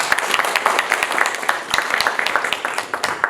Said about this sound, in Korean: 우리 선조들이 만들어 놓은 위대한 문화유산을 생각하면서 박수 한번 부탁드리겠습니다